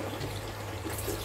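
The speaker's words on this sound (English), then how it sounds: "So you can see water is actually coming out from the hole." Water runs steadily out of a hole in a small homemade aquaponics solids waste filter, making a constant close trickle and splash with no pauses.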